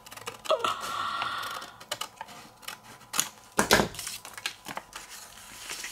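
Scissors snip through paper while trimming pages for an envelope junk journal, with short, crisp cuts and rustling paper in irregular bursts, close and fairly quiet.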